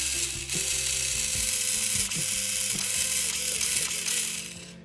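A box-stock RC car motor on a Furitek ESC, converted to run brushed, revs up close with a whining, gear-like mechanical buzz whose pitch steps up and down through several quick bursts.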